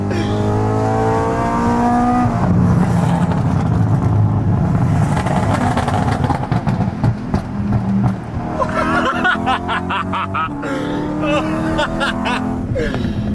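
A tuned BMW M3 engine revs hard and then burbles and crackles as the revs fall, loud and close, with crowd chatter and talk running underneath.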